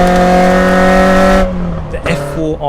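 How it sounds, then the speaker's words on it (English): A Renault Clio 172 Cup's F4R engine howls at high revs, a loud sustained tone with induction noise, then cuts off abruptly into gear-change lulls and brief rising bursts. "The F4R engine screams potent induction noise, pulling you higher up the revs."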